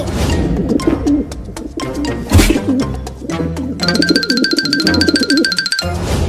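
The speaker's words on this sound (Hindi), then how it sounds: "वहाँ पर एक कबूतर जमीन पर चल रहा है" Soft, low cooing from a pigeon sounds close by, mixed with rustling and thuds, followed by a burst of rapid, bright electronic beeping before cutting off.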